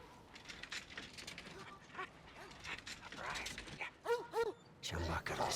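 In the post-apocalyptic game Mad Max, a dog gives several short barks and a whimper close by, mixed with clanking mechanical noises and a voice speaking.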